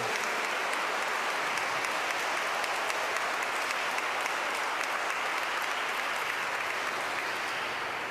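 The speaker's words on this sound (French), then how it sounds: "est-ce qu'on l'applaudit pour l'accueillir dans la famille de Jésus?" Congregation applauding in a church to welcome a newly baptized child, a dense, steady clapping sustained throughout without any voices.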